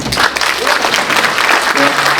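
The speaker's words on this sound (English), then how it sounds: "Can we have a round of applause for all the folks that prepared the food for today?" An audience applauds a food service team at a keynote event, with steady, dense clapping filling the whole stretch at close range, mixed with a few scattered voices.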